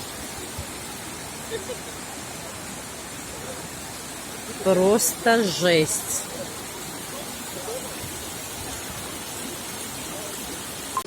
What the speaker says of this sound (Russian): Здесь организовался нехилый водопад.